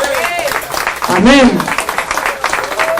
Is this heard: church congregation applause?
yes